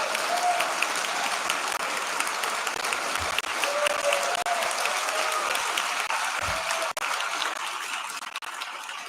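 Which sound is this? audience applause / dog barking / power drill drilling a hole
audience applause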